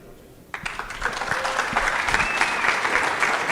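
Conference audience at PyCon Colombia 2023 breaks into applause, starting abruptly and holding as dense, steady clapping from a fairly close crowd for several seconds.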